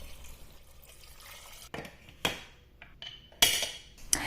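Water poured off soaked kidney beans being drained in a kitchen, heard as a few short splashing and clattering bursts against a pot or sieve after a quiet start, with no talking.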